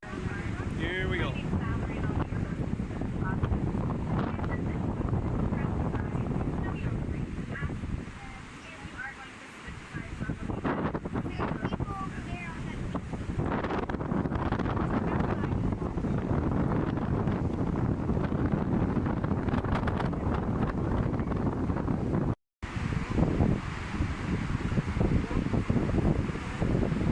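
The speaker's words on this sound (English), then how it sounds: "It is so windy up here" Strong, continuous wind at an exposed spot near Niagara buffets the microphone with a loud low roar that barely lets up, with one brief dropout near the end.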